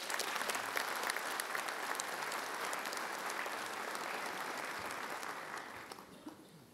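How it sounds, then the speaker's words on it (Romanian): Steady applause from an audience at a municipal party general assembly in Bacău, dense and sustained, thinning out near the end, with no voices over it. "aș dori un rând de aplauze pentru dumneavoastră"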